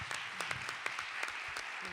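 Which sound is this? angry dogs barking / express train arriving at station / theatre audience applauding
theatre audience applauding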